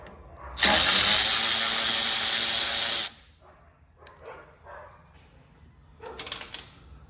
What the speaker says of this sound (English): Dogs are going nuts over there.